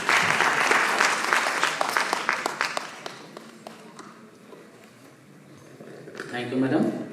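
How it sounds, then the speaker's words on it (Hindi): Loud applause from an audience at a Youth Parliament event at Bundelkhand University, strongest at the start and fading over several seconds before a voice begins speaking near the end. "एक बार जोरदार ताली"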